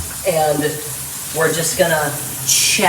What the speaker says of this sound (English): That's the sound of sizzling lard.